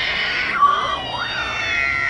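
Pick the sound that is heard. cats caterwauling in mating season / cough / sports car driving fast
cats caterwauling in mating season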